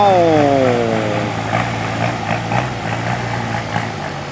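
Dump truck engine droning low and steady while reversing about 80 metres, opening with a falling whine that fades into a rumbling, slightly pulsing idle, fairly close.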